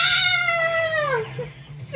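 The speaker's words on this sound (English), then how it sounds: "And now there's a cat." A cartoon cat gives one long, loud, drawn-out meow that slides downward in pitch, close and clear, ending with a short extra squeak.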